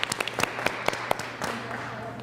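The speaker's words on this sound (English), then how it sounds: "Let's give Andrew a big round of applause" Sparse applause for a door prize winner at a live-streamed charity event in Peoria, Illinois: a handful of scattered claps over a low steady hum, brief and fairly quiet, with a faint voice underneath.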